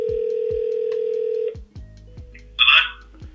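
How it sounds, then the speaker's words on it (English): An outgoing telephone call rings back with a steady tone that cuts off after about a second and a half. Faint clicks and a brief burst of noise follow. "All right, I already have the number dialed. I'm gonna call him."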